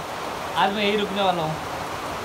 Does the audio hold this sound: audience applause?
no